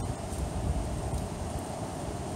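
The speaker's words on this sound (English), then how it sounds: "I hope that wind's not coming down too hard on the camera. real high in the trees right now." A steady wind roars through tall trees high overhead at a camp on a mild February day, a constant broadband rush with slight swells and no voices.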